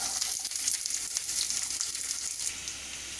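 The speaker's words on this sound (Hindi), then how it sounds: "ऑयल गर्म हो जाए तो इसमें मैं अनियन डालूँगी।" Chopped onions sizzle steadily in hot oil in a kadai while kadai paneer is being cooked, a dense, close crackling hiss that holds constant throughout with no talking.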